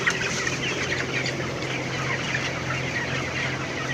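Chickens in a highland coop cluck softly and continuously over a steady low hum, a close, busy chatter of many birds with no voices over it.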